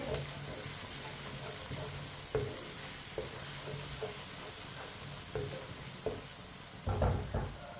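Whole cumin and coriander seeds frying in a pan on low heat, a faint steady sizzle with occasional soft spoon taps and stirring clatters, quiet and close.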